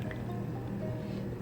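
A Keurig K425 Plus coffee maker drips brewed coffee into a cup, a soft steady liquid trickle with small splashy drips, close and continuous without talk.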